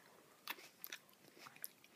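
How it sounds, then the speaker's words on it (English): Faint, quiet chewing and biting of food at a meal with a small child, a few soft crunchy bites scattered over about two seconds against low background. "And he's still chewing."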